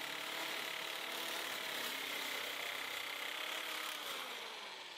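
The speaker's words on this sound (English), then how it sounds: "I'm cutting some sheets of sacrificial sheet steel" A sheet metal cutter slices through sheets of sacrificial sheet steel, giving a steady, close, rasping scrape that runs without a break and tapers slightly at the end.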